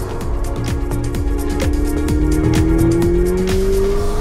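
A Ferrari 488 Spider's engine drones loudly and steadily while driving with the roof open, the tone climbing gradually in pitch as the car accelerates, with no voices.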